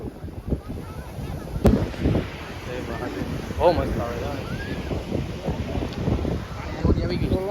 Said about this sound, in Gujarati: ઓ એ ફૂલ પવન ફૂલ પવન